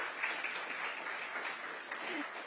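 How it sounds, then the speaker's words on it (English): Brief burst of applause from an audience at a McDonald's celebration at the Ritz Carlton during Essence Fest 2022, a dense steady patter of clapping at moderate volume. "Let's give a round of applause for that."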